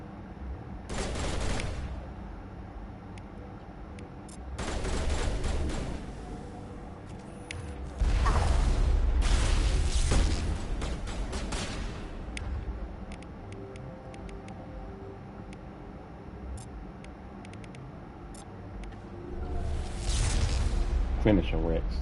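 Pistol shots ring out in a Mass Effect firefight, several separate bursts of gunfire spaced across the scene, loud and close, with game effects and a voice speaking between them.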